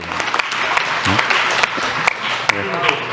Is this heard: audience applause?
yes